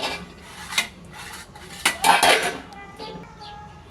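A plate handled over a bowl of marinated chicken, ceramic clinks and scraping knocks, close and fairly loud, with a brighter clatter midway.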